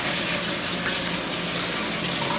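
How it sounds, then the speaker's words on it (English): Breville Juice Fountain Plus parts being rinsed under a sink tap, a loud continuous rush of running water that holds steady throughout with no voices. "the sink is right here, just rinse it off"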